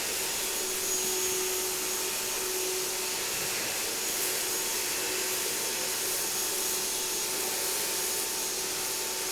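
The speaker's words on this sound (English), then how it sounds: "So clearly not the attachment for hoovering rice or vacuuming rice." A Black & Decker Dustbuster Flexi 12V handheld vacuum sucks up spilled rice, giving a steady, unbroken motor whine with airy hiss that holds at an even level throughout, close by and with no talking.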